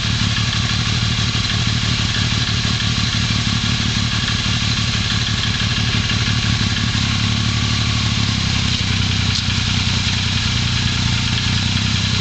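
A 1978 Yamaha XS750 three-cylinder motorcycle engine idles steadily up close, a loud, even mechanical clatter and throb running without pause and no talking.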